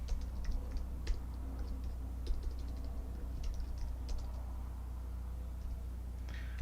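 Soft, quick keystrokes tap on a computer keyboard in irregular bursts and scattered single clicks over a low steady hum, faint and close.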